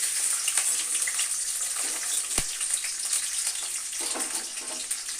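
Nuts and soaked chickpeas fry in hot oil in a pan for a radish dish, giving a continuous close bright hiss and crackle with a single sharp clink partway through.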